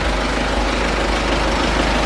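A farm crossing vehicle's diesel engine idles nearby with a steady, loud low rumble and no voices over it.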